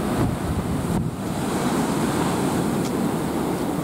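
Wind and waves at the sea on a mild morning give a steady, loud roar of surf and gusting wind that fills the whole stretch without a break.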